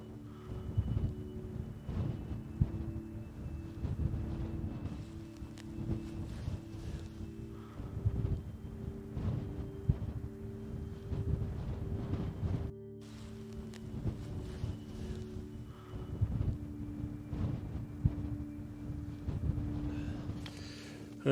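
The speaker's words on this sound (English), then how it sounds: "It's bitterly cold, the wind is kicking through." Gusting wind buffeting a Nortent Vern 1 tent in bitter cold, a steady low rumbling roar with fluttering fabric pulses, heard from inside without talk.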